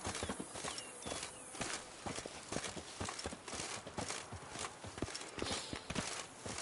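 Horse hooves clip-clopping in a steady walking rhythm on hard ground in the video game The Witcher 3, close and continuous with light ambient background.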